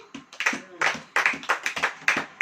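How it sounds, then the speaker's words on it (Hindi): A congregation claps their hands in praise during a Hindi sermon, several quick, loud, close claps in uneven bursts filling the short moment. "ताली बजाइए तो करेंगे तो"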